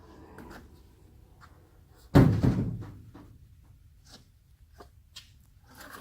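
A single solid thunk as the driver side door of a 1955 Chevy truck, under rust repair, swings shut close by, trailing a short rattle and then near-quiet.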